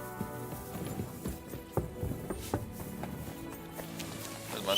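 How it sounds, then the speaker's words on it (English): Horse hooves clip-clop on a cobbled alley in Kingdom Come: Deliverance II, a run of close, uneven hoof strikes with a faint voice in the background. "Get that horse under control."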